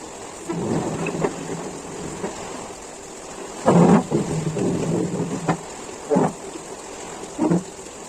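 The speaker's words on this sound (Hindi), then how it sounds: "तो हल्की हल्की फुहार सी लगन लग रही है" Rain falls steadily outdoors with a hissing wash, while low rumbles of thunder swell and fade several times, loud and close at moments.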